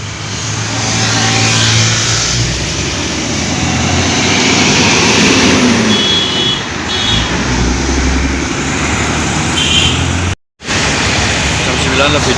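An intercity AKAP/AKDP bus engine revs on an arterial road, a loud broad roar of traffic that swells, holds, and cuts out briefly near the end.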